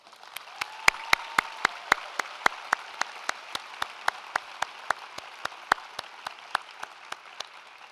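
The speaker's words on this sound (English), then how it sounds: "Please join me in recognizing our stage party with a round of applause." Applause at a university architecture and design commencement, heard as sharp, fairly evenly spaced claps standing out against a soft background wash, close and distinct rather than a dense crowd roar.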